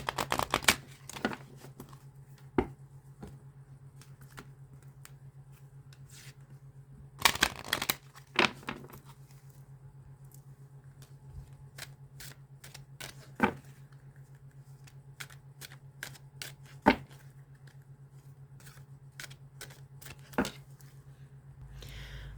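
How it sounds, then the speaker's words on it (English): Playing cards being shuffled in short, soft bursts scattered across a quiet stretch, with a few louder riffles standing out near the middle and no talking. "we're going to give it one more shuffle"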